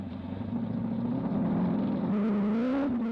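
An Atlas Copco Ford rally car, heard on board as it drives through a muddy section of a cross-country race: a steady, loud engine drone with a low hum that rises in pitch near the end, and no voices.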